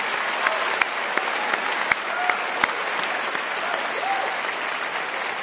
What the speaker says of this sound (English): Can we give a round of applause to our Savior, Jesus Christ?